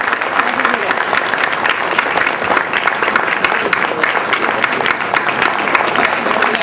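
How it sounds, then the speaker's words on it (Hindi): Audience applause at a family gathering of the Sainthwar Mall Rajput Trust in Gorakhpur as a cheque is handed over: loud, dense, continuous clapping from a crowd throughout, with voices mixed in. "तालियों से स्वागत किया जाए।"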